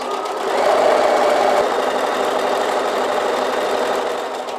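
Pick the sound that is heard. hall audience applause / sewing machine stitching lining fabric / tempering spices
sewing machine stitching lining fabric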